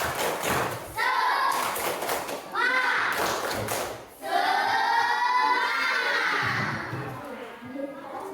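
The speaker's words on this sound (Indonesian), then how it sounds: "Sebelum kerja kelompok, tepuk semangat." A classroom of children performs the tepuk semangat spirit clap before group work, a run of rhythmic claps and thumps mixed with loud children's chanting and shouted voices, close and lively.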